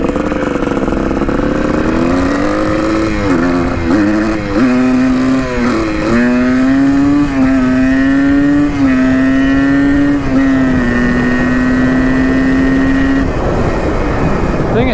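A $100 200cc dirt bike engine runs close and loud, its pitch wavering and jumping with repeated throttle blips before settling into a steadier idle-like drone, then cutting off near the end.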